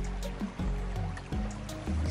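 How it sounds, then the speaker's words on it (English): A small, mucky stream of creek overflow trickles through a stand of trees, with a steady close watery flow and a few heavier gurgling surges. "I just made a shot of this little stream kind of running through the stand of trees"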